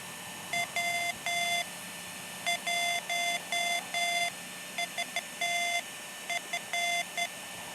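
Morse code CW tones received over an amateur radio optical link, a steady pitched beep keyed on and off in irregular dot-dash groups, clear and alone over a faint hiss, with no talk.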